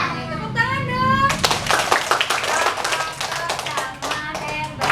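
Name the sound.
children clapping hands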